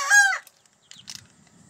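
Backyard chickens give a loud, close, harmonic call with a falling pitch, followed by softer scattered clucks and low murmuring.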